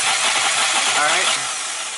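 A Nissan Maxima with a misfire cranks over with the pedal floored, a loud, steady, close whirring grind of the starter and engine running continuously without a clear catch.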